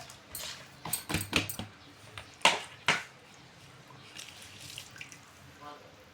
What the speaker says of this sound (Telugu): దీన్ని వాటర్లో వేసుకొని మాకు కడుక్కోవాలి